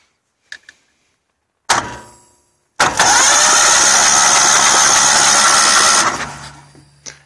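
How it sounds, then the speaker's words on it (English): A Kohler 25HP engine with its spark plugs pulled cranks over on a boost battery, a loud, steady mechanical whir held for about three seconds after a brief false start, with no firing, then winding down. "Just cranking over without the plugs for now."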